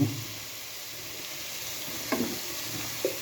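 Carrot halwa fries in a pan as ghee goes in, making a soft steady sizzle with a couple of brief stirring clinks and no talking.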